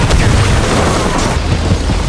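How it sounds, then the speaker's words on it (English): A film's nuclear bomb blast, heard as a deep, loud rumbling boom that rolls on without a break, heavy low-end roar with scattered crackling bursts riding on top. "When the bomb exploded, the impact of the explosion swayed the helicopter"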